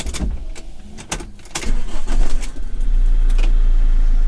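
A motorhome engine cranks and catches, then settles into a loud, steady idle after a few clicks and knocks nearby.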